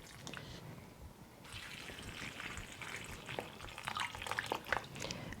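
Room temperature water is poured over ranunculus and anemone bulbs in a container, a soft, faint trickle and splash that swells slightly toward the end.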